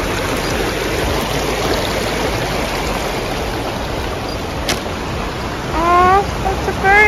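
River water flows steadily through a river crossing on Crete, Greece, as a broad, continuous rushing wash close by, with a bird chirping briefly near the end.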